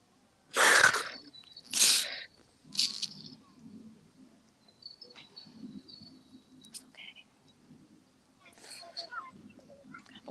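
A person gives two sharp sneezes in quick succession nearby, followed by a third, softer one. Quiet voices and faint background noise fill the pause after.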